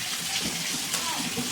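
Tap water runs steadily into a sink to wet a makeup sponge, a continuous near splashing stream with no talking.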